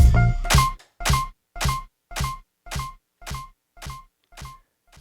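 Echo effect from a DJ controller: a short sound followed by about eight evenly spaced repeats that fade steadily, giving a long, clean tail with no talking over it.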